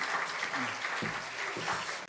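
A church chapel congregation claps to welcome the pastor to the pulpit, a steady, fairly close wash of applause with some low murmuring voices underneath.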